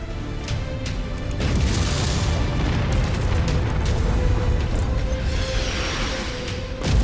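Cannon fire pounds away in MechWarrior 5: Mercenaries, Rise of Rasalhague, a loud, continuous barrage of booming explosions and rumbling impacts that barely lets up for several seconds.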